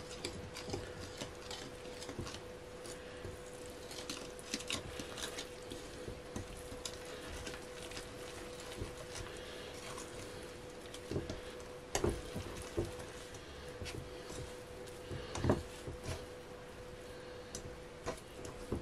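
Dough for Greek laganes made with flour, salt and olive oil being mixed in a bowl, giving faint, irregular sticky clicks and soft scrapes over a quiet steady hum.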